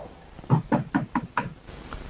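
Five sharp knocks in an even rhythm, as if on a door or wall during a paranormal investigation, loud and close with a quiet room around them.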